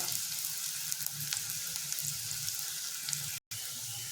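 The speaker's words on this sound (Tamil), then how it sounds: "வெங்காயம் நல்லா செவக்கிற அளவுக்கு வதங்கட்டும்" Onions sautéing in oil in a pan for a spicy Tamil egg gravy give a steady, close frying sizzle with a low bubbling crackle, broken by a brief silence near the end, no voices.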